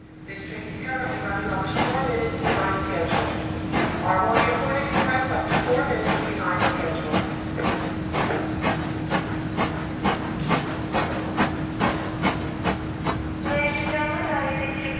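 An animated Thomas & Friends steam engine chuffs along, with rapid evenly spaced puffs over a steady whistle-like tone and rail clatter, close and loud, speeding up through the middle and easing off at the end.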